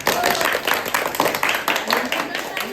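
Applause for a performer at a Maithili comedy troupe's birthday party, dense clapping from a small crowd rolling steadily throughout, with someone talking over it.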